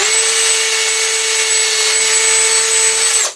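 A power drill with dull Harbor Freight bits whines steadily at close range, a continuous high-pitched motor tone that cuts off abruptly after about three seconds.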